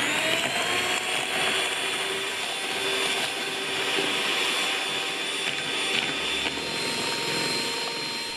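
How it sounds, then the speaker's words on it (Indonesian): An electric mixer beats egg yolks, sugar, salt and vanilla for a tres leches cake, a steady loud whirring drone that holds constant throughout with no talk. "Pertama kita campurkan bahan A menggunakan mixer, masukkan kuning telur, gula, garam, dan vanila."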